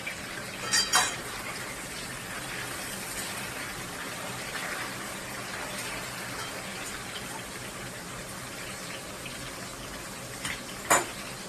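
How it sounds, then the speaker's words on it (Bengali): Crabs fry lightly in a pan, giving a faint, steady hiss and sizzle throughout, with a couple of short metallic clinks near the start and end and no voice. "তো প্রথমে কাঁকড়াগুলো একটু সামান্য ভেজে নেব"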